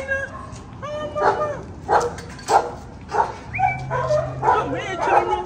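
French bulldogs bark and yip in a string of short, loud, close calls with whimpering between them, while a person talks over them.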